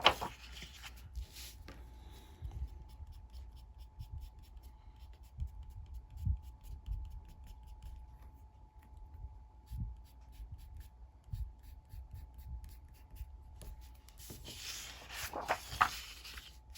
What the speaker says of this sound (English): Again, I'm going to erase.